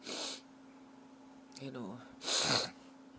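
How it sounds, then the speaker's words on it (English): Two breathy bursts, a sneeze-like blast and a snuffle, around a short voiced murmur, close against a faint hum. "excuse me for my snuffling, sneeze now"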